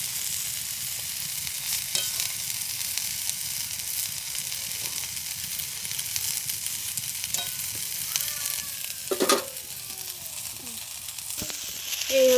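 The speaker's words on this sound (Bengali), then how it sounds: "এভাবে ভেজে নিতে হবে।" Eggplant slices frying in oil in a pan, a long even crackling sizzle with a few clinks and scrapes of a utensil turning them toward the end, close and alone.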